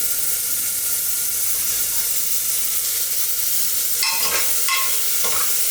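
Tomatoes fry in a pan with a steady hiss filling the whole stretch, with a louder burst of sizzling near the end as they are stirred.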